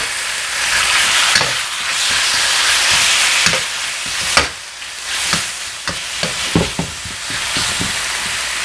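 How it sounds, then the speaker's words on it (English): Thinly sliced beef stir-frying with vegetables for beef lo mein, a loud continuous sizzle broken by repeated scraping stirs and clanks of the utensil against the pan, no voices. "since the beef is sliced so thin, it won't take long to cook"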